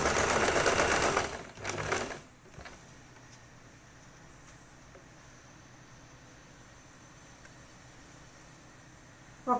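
A sewing machine runs in a loud, steady burst of stitching through scrunchie fabric for about two seconds, then stops, leaving a quiet room hum with faint small clicks.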